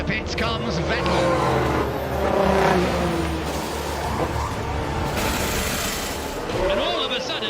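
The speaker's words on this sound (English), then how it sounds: "It's time to see the real speed of that Honda engine." A Formula 1 car with a Honda engine accelerates with a loud, rising roar that swells and fades like a pass-by, with a voice talking over the engine.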